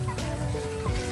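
Mixed farm fowl on a small farm with chickens and ducks, including a big Pekin duck, call and cluck in short bursts, with a gobble-like cry near the start and end; the calls are moderately close and quiet.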